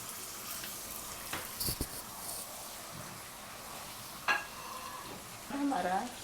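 Chicken frying with biryani masala in a pot, a soft continuous sizzle with occasional stirring scrapes and clinks, fairly quiet and close.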